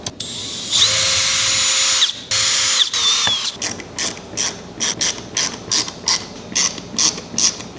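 Small hand screwdriver driving screws into a puzzle box latch, an early buzzing whir of a powered driver giving way to a rhythmic series of ratcheting clicks, close and steady, with no talk.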